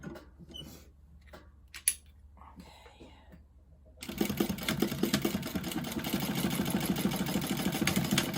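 A sewing machine top-stitches quarter-inch fabric folds, running in a steady continuous whir for several seconds after a stretch of quiet handling sounds and faint soft voice.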